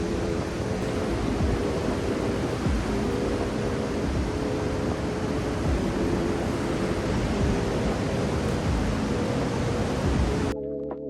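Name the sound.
ocean surf waves at Ocean Beach pier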